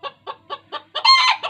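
A bantam rooster gives four short, evenly spaced clucks, then a louder, drawn-out crowing call and one last cluck, all close and clear against silence.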